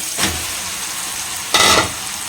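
Pieces of chicken hit hot frying masala for a chicken paper roast, giving two short sharp sizzling bursts, the second louder and longer, close and clear over a steady hiss of oil.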